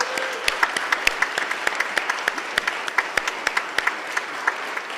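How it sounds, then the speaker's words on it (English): A church congregation applauds its social justice volunteers, steady clapping from many hands filling the room for several seconds, crisp individual claps standing out against a dense wash. "Let's please give them all a round of applause."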